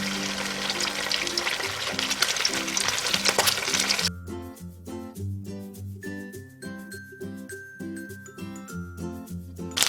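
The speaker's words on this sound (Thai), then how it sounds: "ทอดไปเรื่อยๆอย่างนี้จนหมูสุกนะคะ" Carrots wrapped in pork fry in hot oil left over from frying garlic, giving a steady, dense sizzle for about four seconds before it gives way to music.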